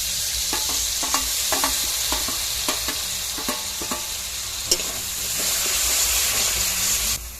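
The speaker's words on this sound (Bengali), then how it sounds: "মেশানো মশলাটা দিয়ে দেবো।" A paste of ground coriander, cumin, chili and a little water hisses and sizzles steadily in a hot pan, with close, regular scraping clicks of stirring over the continuous frying.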